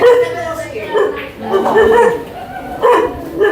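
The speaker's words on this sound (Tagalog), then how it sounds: "Ito, nagagalit na yung aso mo." An angry dog barks and yips in short bursts near a billiard table showroom, mixed with people talking over it.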